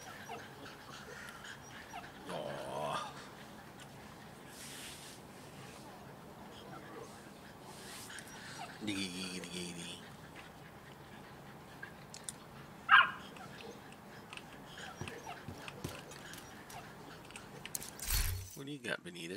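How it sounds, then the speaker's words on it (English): A dog in the video game The Division 2 whimpering and giving a few short barks, scattered quietly over a low background, with a player talking throughout. "pet the puppy before we go"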